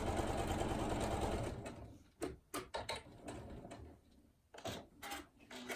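A sewing machine stitches fabric for a tool wrap, running in a steady continuous whir for about a second and a half, then pausing and giving several short bursts of stitching with mechanical clicks between them; no talking.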